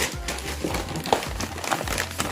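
Snack packaging from a relief package crinkles and rustles in hand during unboxing, a steady close-up crackle of plastic wrappers with a few sharper crunches, no talking.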